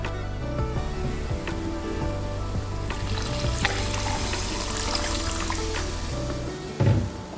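Water hits hot tapioca masala in a pan and sets off a loud, continuous sizzle and bubbling frying noise with a few stirring clatters, close and steady throughout.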